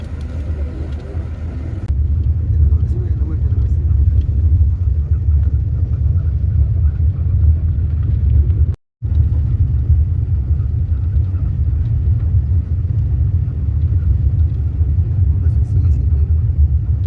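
Steady low engine rumble and road noise inside a moving bus travelling through hilly country near Machu Picchu, continuous and close apart from one brief dropout midway.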